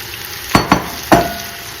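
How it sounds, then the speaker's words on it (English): Two pounds of Gulf white shrimp tumbling into a pot of cooked sausage and chopped vegetables, giving three quick splashy clatters over a steady low sizzle, close and fairly loud with no talk. "I'm getting ready to add the 2 pounds of Kris'es Gulf white shrimp to the pot"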